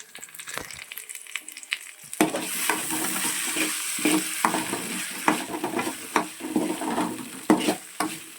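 Schezwan fried rice with red chilli sauce sizzles in a pan. Stirring scrapes and tosses recur in uneven bursts over the steady frying hiss, starting after a quiet opening.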